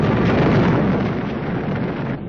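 A loud, rumbling WWII bomb explosion from a 1944 bombing raid roars and slowly rolls off, a dense low boom that fills the whole clip.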